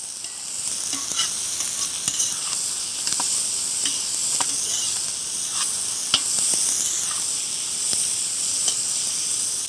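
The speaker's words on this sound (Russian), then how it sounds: "И также помешиваем и обжариваем." Peppers for paella sizzle and hiss continuously in a kazan over a campfire, with frequent light scrapes and clicks of a spoon stirring, close up and without talk.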